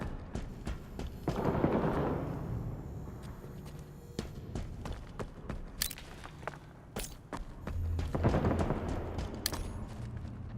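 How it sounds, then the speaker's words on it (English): Video game gunfire pops in scattered sharp shots at middle distance, mixed with shuffling movement and a couple of louder rumbling bursts, fairly quiet overall. "Listen for gunshots."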